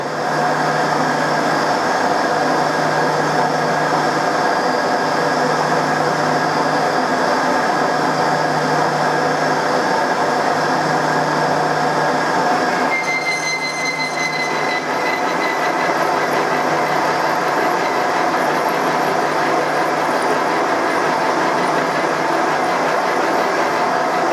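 A metal lathe cuts a chamfer on the cap of a 300 bar hydraulic cylinder, giving a steady, loud mechanical hum with a constant whine and ringing overtones, shifting slightly partway through.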